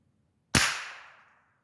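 A single sharp gunshot from a .22 rifle fitted with a 3-9x scope, loud and close with a fast attack and a ringing tail that decays over most of a second, no talking.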